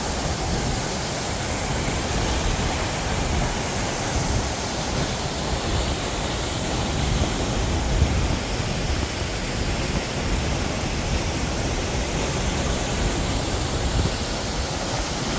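A roaring waterfall carries an unusually heavy flow of water, its steady, dense rush filling the scene from start to finish without any voices.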